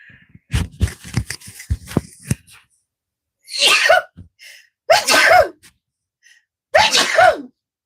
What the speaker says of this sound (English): Oh, I got sneeze.